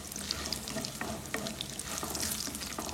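Cashews, urad dal and curry leaves sauté in a pan over a low flame. There is a close, steady sizzle with scattered crackles and light stirring scrapes, and no voices.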